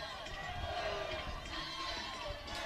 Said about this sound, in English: as the Go Blue chant sounds here at Alumni Field